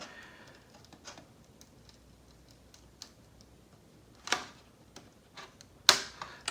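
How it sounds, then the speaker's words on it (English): Curved scissors trimming a clear plastic RC buggy body for a Team Associated B6.3, sparse quiet snips and clicks with a few louder sharp cuts near the end, no talking. "Now I'll grab the curved scissors, and I'm going to start my cut back here"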